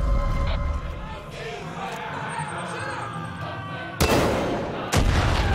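Gunfire aimed at a loudspeaker in Far Cry 5 at Hope County Jail, two sharp loud shots cracking out near the end over a dense bed of crowd noise and battle ambience.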